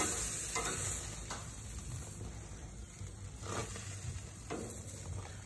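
Steak sizzling on an outdoor grill, a steady close crackling hiss with occasional scraping pops, no talking.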